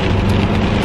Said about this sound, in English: I love the rain, but I hate driving in the rain.